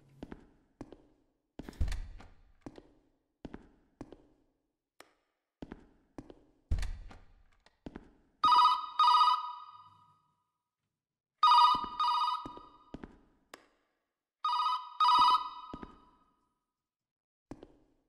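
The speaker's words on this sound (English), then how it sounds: "That phone sound." A telephone rings in a horror video game, bursts of bright bell tones repeating in spaced groups, mixed with scattered footsteps and taps in a quiet interior.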